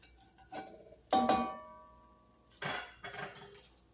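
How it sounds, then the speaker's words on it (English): Scraping browned bits in a pan while sauteing onions, a few distinct metallic scrapes and clanks against the pan with ringing tails, separated by short pauses. "I'm going to scrape up all the little brown bits."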